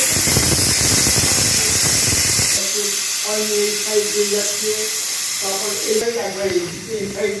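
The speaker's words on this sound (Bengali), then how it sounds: "এবারে প্রেশারটাকে জাস্ট রিলিজ করে দেবো" A home pressure cooker holding chicken stew vents steam in a loud, steady hiss. Partway through, the hiss drops and a wavering whistle-like tone appears, and then the venting fades toward its end.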